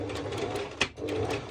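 A sewing machine runs a straight stitch on bikini fabric, giving a quick fast whirring chatter with a short pause midway, close up and fairly quiet.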